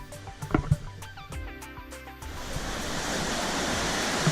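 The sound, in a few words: crossing a river, flowing water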